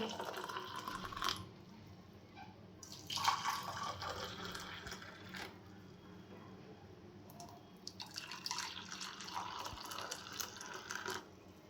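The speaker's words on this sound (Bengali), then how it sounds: "এখানে আমার এই যে চা হয়ে গিয়েছে এখন আমি ঢেলে নিচ্ছি" Freshly made tea being poured from a pot into a cup, a trickling, dripping liquid stream that comes and goes in bursts, fairly quiet and close.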